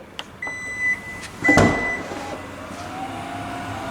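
Rear tailgate of a Kia Sorento plug-in hybrid opening, with a clear electronic beep tone followed by a mechanical latch clunk and a powered motor hum as the door lifts.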